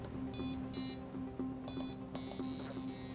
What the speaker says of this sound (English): Project 2 is the always fun Simon Says game, which is a memory game using buttons and buzzers